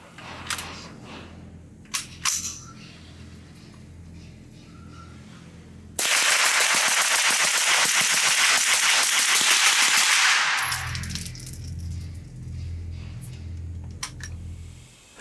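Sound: rapid .22 rifle gunfire, Thompson Center T/CR22

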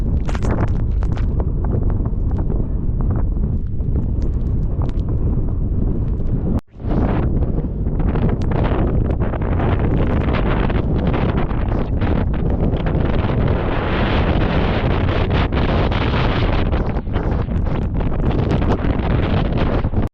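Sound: strong wind at a ghat top near a waterfall

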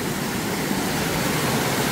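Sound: Jiktang waterfall in Jungwon Valley

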